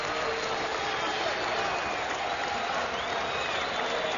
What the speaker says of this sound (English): And the crowd showing its appreciation.